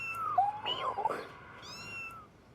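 Ginger kittens meow in several high, wavering cries, close and clear, with a few overlapping calls and soft background noise.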